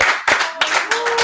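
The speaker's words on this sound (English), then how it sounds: "Let's just give Elon Musk a round of applause." Hand claps ring out close and loud, about four in a slow, steady rhythm, during a live talk show giving a round of applause.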